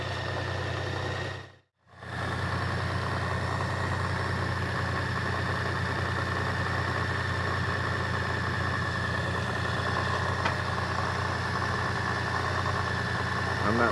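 A 2018-or-later Honda Gold Wing DCT motorcycle engine idles steadily with a low, even rumble after an oil change, continuous apart from a brief dropout near the start.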